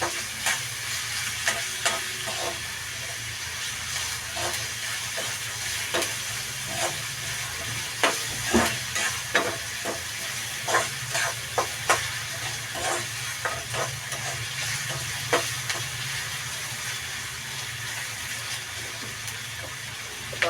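Onions frying in a pan for Maharashtrian methi bhaji, a steady soft sizzle with scattered crackles and occasional stirring clicks, close and continuous without any talk.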